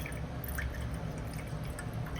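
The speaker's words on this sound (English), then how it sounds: "Pour this off so we have something clear to start with." Light blue liquid poured off from a container while refining 10k gold with nitric acid, a steady faint trickle and splash throughout, no talking.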